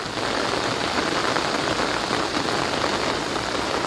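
Heavy monsoon rain falls steadily on a rural farming village, a dense, even hiss and patter that fills the whole moment at a constant loud level, with no voices.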